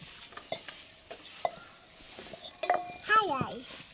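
A child cooks at a village stove, stirring and frying food with scattered scraping taps and a faint sizzle, while young voices talk and call over it.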